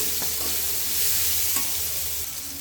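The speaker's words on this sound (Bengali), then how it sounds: "পেঁয়াজ আর কাঁচা কাঁচামরিচটা ভাইজা নেই" Onions and chilies sizzle steadily in hot oil while a spoon stirs and scrapes the pan a few times, close up, with no talking.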